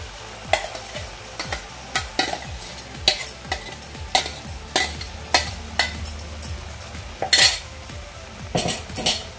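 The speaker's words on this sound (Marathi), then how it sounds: "आता हे सोया चंक्स सर्व या कढईमध्ये मी घालते." Soya chunks tossed into a hot kadhai over a low flame for spicy soya keema, with steady sizzling beneath repeated sharp scrapes and clinks of a spoon stirring against the metal pan.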